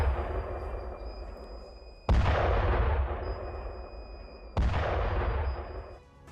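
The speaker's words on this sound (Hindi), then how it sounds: "एक के बाद एक कई आपको धमाके की आवाज सुनाई दे रही है" Two heavy booming blasts go off a couple of seconds apart in a forest in Poonch, each a sudden loud crack followed by a long rolling echo that slowly fades.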